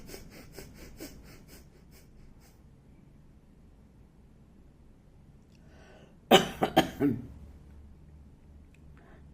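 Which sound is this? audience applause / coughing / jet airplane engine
coughing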